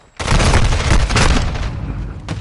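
Grenade blast in a Search and Destroy round of an online shooter, a sudden loud boom that rolls on as a dense rumbling roar for about two seconds, then a second burst starts right at the end.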